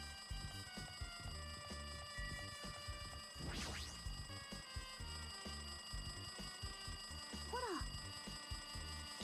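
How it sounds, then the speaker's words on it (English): A telephone rings in the video game Danganronpa 2, a steady electronic ringing tone running through the whole stretch over a busy game music bed, with a brief rising chirp partway through. "It looks like that phone is ringing."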